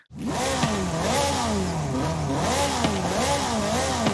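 A Koenigsegg CCGT in Forza Horizon 5 revs hard and loud, its engine note sweeping up and down in repeated waves, close and continuous with no voices over it.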